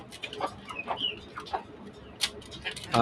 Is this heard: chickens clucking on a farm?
yes